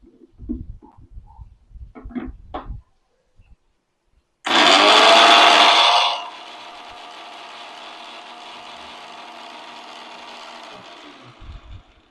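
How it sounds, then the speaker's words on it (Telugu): Mixer grinder grinding dried red chillies and garlic: a loud burst of high whirring for about two seconds, then a steadier, quieter motor hum that continues for several seconds before stopping, with a few faint knocks beforehand. "ఎండుమిర్చి, ఎల్లిపాయలు ఇళ్ళనే వేసి పట్టుకోవాలి."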